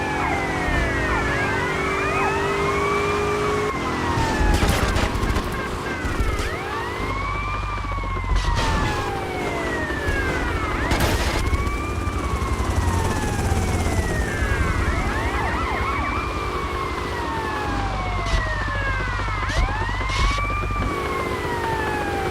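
Police car sirens wail in the GTA Vice City video game, several overlapping rising-and-falling sweeps repeating steadily and loudly throughout over a continuous low engine-like rumble.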